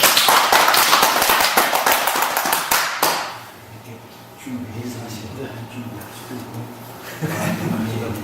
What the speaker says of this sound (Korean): 박수 받아주세요